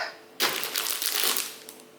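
A Real Grade Gundam Avalanche Exia model kit package being torn open, a sudden loud burst of crinkling, crushing plastic and paper that continues with rustling for about a second and a half, then tapers off.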